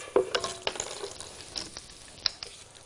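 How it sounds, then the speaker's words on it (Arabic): Rice with a cinnamon stick, dried lime and spices sautés in butter and oil, a soft steady sizzle with scattered stirring clinks and scrapes from a utensil against the pot, close by with no talking. "واشوح عندي مع الزبدة والزيت"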